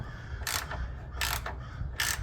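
Ratchet clicking in three short bursts as sway bar bushing bolts are tightened on a Cadillac Escalade, close and fairly loud over a low background hum.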